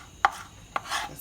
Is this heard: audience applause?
no